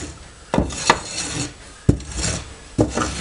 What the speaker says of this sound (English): going through the rake quite well